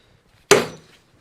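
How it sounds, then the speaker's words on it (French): A hammer strikes a small centre punch once, marking copper for a homemade manifold; a single sharp, close metallic tap that decays quickly in a quiet room. "là j'ai un petit pointeau tout bête avec un marteau"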